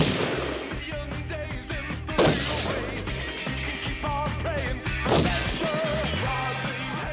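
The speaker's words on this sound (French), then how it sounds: "elle dégaine sa carabine et tire" Carbine shots are fired at a painted relief in an impasse courtyard, two sharp cracks standing out over a busy, layered background of music and noise.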